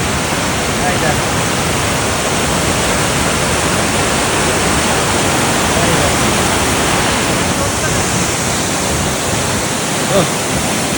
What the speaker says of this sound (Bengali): কি দারুণ জলের স্রোতটা দেখো